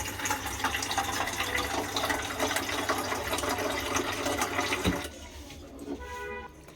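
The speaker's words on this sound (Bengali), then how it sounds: "এই যে আমি জলটা অ্যাড করছি।" Water pouring steadily into a pot of vegetable taheri, a loud continuous rush that stops abruptly near the end, leaving quieter clinks and faint background noise.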